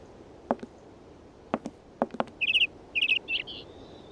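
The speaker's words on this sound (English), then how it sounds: "There's a bird here." A bird in the Syberia adventure game chirps in short bright bursts, two quick clusters of high tweets and a trailing call, following several sharp knocking taps, all fairly close and clear with no talk.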